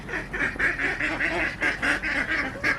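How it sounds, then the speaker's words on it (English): Ducks quack in a rapid, regular series of nasal calls that carries on throughout, fairly close and moderately loud, with no talking over them. "Oh, the ducks."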